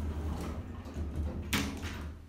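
Southampton lift doors sliding shut: a low steady hum with soft rumbling, then a sharp close thump and hiss near the end as the doors meet.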